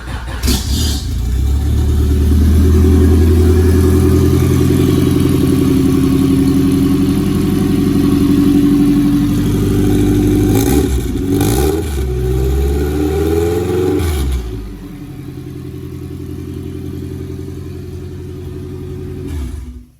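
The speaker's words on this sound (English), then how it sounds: "Now I'll tell you, the difference in the way the car runs is amazing. It's obviously loud because it's a drag car at the moment" A Honda B-series drag car engine fitted with a coil-on-plug kit and no full exhaust runs loud and close, revving and surging, then drops to a quieter idle before cutting off at the end.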